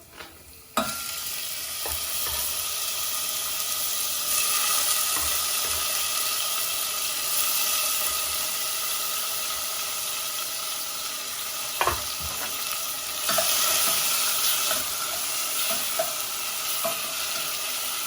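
Tomato and aubergine with salmon cooking in a pan, a steady close sizzle and fry that runs throughout, with a couple of sharp clinks of a utensil against the pan and no voices.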